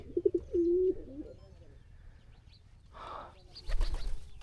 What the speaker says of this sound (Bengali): ঘরের ভেতর কবুতর কবুতর তার নিজস্ব ভঙ্গিমায় ডেকে চলছে।